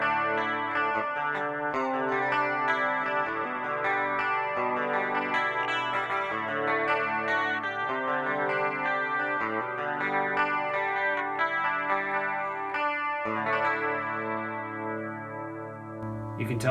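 An electric guitar through a Rockman X100 on a clean setting plays a chorus-drenched phrase of sustained notes and chords, shimmering and bright, with no talking.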